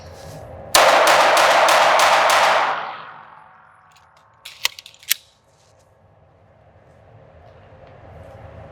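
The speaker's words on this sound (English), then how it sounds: "So it's going to be 6 rounds from the holster." A Ruger RXM pistol drawn from a holster fires six loud shots in a fast burst that rings out for about two seconds. A few sharp metallic clicks follow, then quiet.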